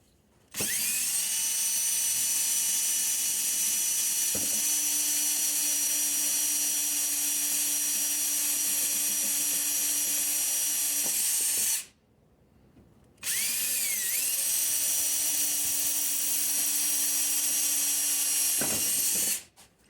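A power drill with a worn bit grinds loudly and steadily through a pontoon boat gate part, running for about eleven seconds, pausing briefly, then whining on again with a strained, high-pitched tone.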